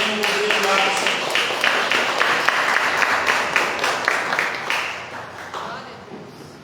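A church congregation claps together in sustained applause that gradually thins and fades out near the end.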